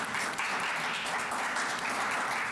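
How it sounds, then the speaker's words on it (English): Audience applause for event sponsors at a business luncheon, fairly faint but steady clapping from a room of people with no talking. "Let's give them a round of applause."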